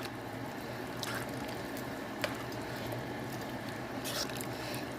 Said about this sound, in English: And then we're going to stir it all in and let these beautiful greens start cooking down.